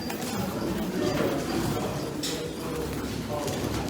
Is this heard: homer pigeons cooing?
yes